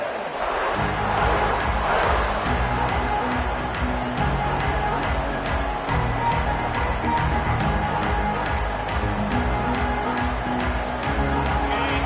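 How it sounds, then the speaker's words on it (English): A stadium crowd in the NCAA 26 football video game roars in a steady, loud wash of cheering that lasts throughout, with a commentator's voice faintly mixed in. "This crowd bringing an ear-splitting welcome to their visitors."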